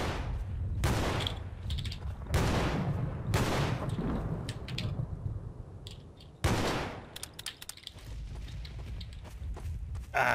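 Gunfire from weapons in Garry's Mod, several loud sharp bursts and single shots with scattered clicks and thuds between them, close and with no talking.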